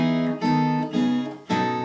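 Fingerstyle guitar playing a short passage of a song: three plucked chords in a waltz-like rhythm, each ringing briefly before the next, close and clear with no voices.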